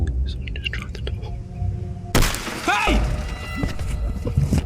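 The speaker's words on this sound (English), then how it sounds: "Smashed his window." A car or van window smashed by a would-be thief at night: a sudden sharp crash of breaking glass cuts in partway through, followed by scattered debris and rustling, with low voices and whispering before and after.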